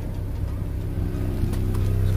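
Steady low engine rumble from a crashed Mini Cooper S with a continuous blowing, chuffing exhaust leak noise, close by and fairly loud throughout.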